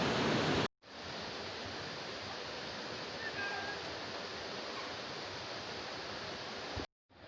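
Water of the River Goit flows in a steady, moderate broadband rush, continuous between short silent gaps at the start and end, with no talking over it.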